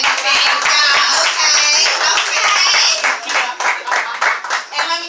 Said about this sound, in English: y'all clap it up for mannerism